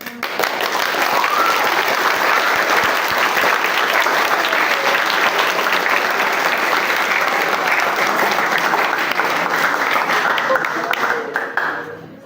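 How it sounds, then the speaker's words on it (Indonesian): A theatre audience applauds at the close of a stage performance at a school theatre festival, a dense, steady wash of many hands clapping that holds loud for about twelve seconds before thinning at the end. "Sebagai bentuk apresiasi, mari kita berikan tepuk tangan."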